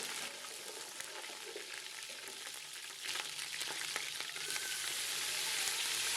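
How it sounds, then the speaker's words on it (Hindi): Garlic and ginger sizzle steadily as they fry in a pot for an aloo mater pulao, a continuous close hiss with faint stirring that grows slightly louder partway through; nobody speaks. "लहसुन अदरक को हम शामिल करेंगे और हल्का सा फ्राई कर लेंगे।"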